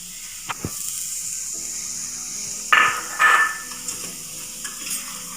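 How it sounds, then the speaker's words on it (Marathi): Onion roasting dry in a pan for a Malvani-style clam curry, with a steady soft sizzle and a few scraping clinks of a spoon stirring, plus two brief louder scrapes midway; no talking. "कांदा भाजून घेते आता."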